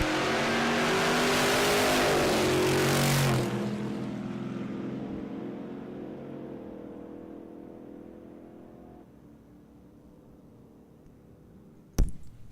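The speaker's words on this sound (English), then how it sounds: "Big block Chevrolet for power in the left lane. Small block supercharged in the right lane." Two drag racing engines, a big block Chevrolet and a supercharged small block, roar loudly for a few seconds at a dragway, then fade into a long diminishing rumble as the cars pull away, ending with a sharp distant bang.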